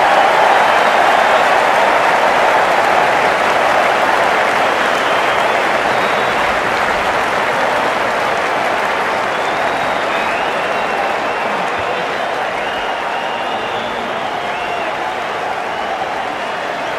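Simulated stadium crowd applauding and cheering in the Cricket 19 game during an England vs Pakistan 2019 World Cup match, a steady dense roar of clapping that fades slightly over time, with no talk.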